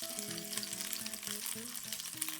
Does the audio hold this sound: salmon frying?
yes